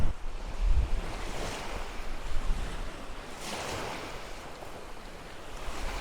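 Strong wind buffets an exposed coastline, rumbling continuously with low gusts over a background wash of surf, fairly loud and steady throughout with no voices.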